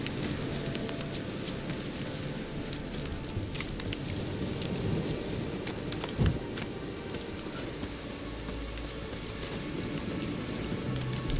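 Steady rain in The Witcher 3, in Crookback Bog, hisses across the whole clip, a dense even patter with no voices, and a brief low thump around the middle.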